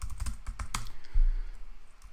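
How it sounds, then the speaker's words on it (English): Password being typed on a computer keyboard during a command-line setup, a quick run of close, light key clicks in an uneven burst, then quieter room tone with a faint last tap. "Type your favorite password."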